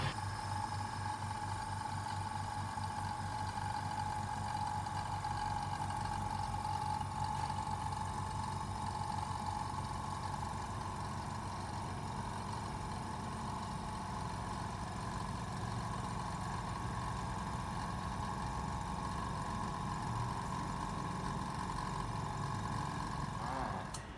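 A Sparmax TC620X airbrush compressor, nearly ten years old, hums quietly and steadily for the whole stretch, a low continuous drone with a faint mechanical whine and no talking.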